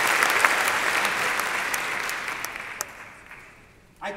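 Audience applause at a mayor's State of the City address in Long Beach, a dense steady round of clapping that slowly thins and fades over about four seconds, ending with a brief burst of other sound.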